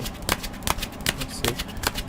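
Tarot cards riffle and flutter in quick bursts, about five shuffles in two seconds, close and crisp.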